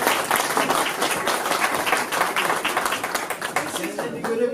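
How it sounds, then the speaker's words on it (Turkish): Dense, steady clapping from an audience at a community commemoration event, loud and close throughout, with a voice briefly audible near the end. "Bir alkışlar."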